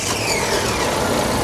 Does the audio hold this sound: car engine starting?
yes